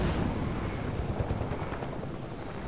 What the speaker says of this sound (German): Nehmen wir Heli und fliegen schnell zum Loot-Drop.